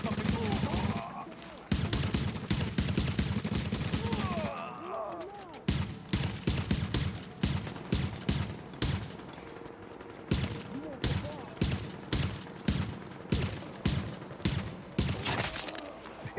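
Gunfire in The Division's Dark Zone, a shooter game: sharp shots in bursts and separated volleys repeat steadily across the stretch, loud and close, with brief pauses between strings of rounds.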